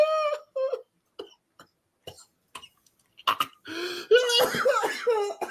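Several short coughs and throat-clearing sounds, sparse at first with gaps of silence, then a louder run of strained, raspy coughing and gasps near the end.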